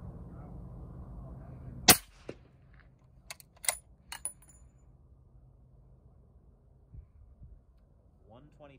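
A single sharp, loud crack from a rifle firing Lapua 300-grain factory ammunition through a Thunder Beast 338SR suppressor, followed by quiet clicks and handling noises.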